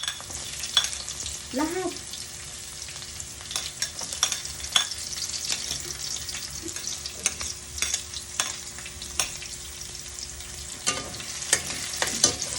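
Garlic and onion sautéing in hot oil for sautéed bottle gourd with meat, a constant crackling sizzle dotted with sharp pops and spatula scrapes, and a single word spoken briefly.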